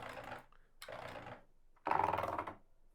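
Keys of an Akai MPK Mini MIDI keyboard clack in three quick bursts of rapid tapping, close and fairly quiet, with short pauses between the bursts.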